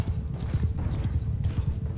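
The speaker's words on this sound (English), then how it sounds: "I need to get a better horse." Rhythmic clip-clop of a galloping horse in Mount & Blade II: Bannerlord, quick repeated hoof thuds in a steady beat, close and moderately loud with no speech.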